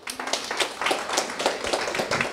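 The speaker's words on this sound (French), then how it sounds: "On peut les applaudir très très fort." An audience claps for prize winners at a national chemistry olympiad awards ceremony, a steady run of handclaps for about two seconds with no voices over it.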